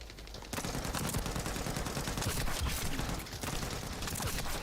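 Sustained light-machine-gun fire in the shooter game The First Descendant, a dense, steady rattle of rapid shots that starts abruptly after a brief pause and runs loud and continuous to the end.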